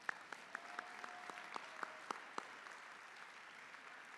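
A convention audience at an IFT union gathering claps faintly and distantly, sparse hand claps punctuating a soft, steady wash of applause that dwindles over a few seconds.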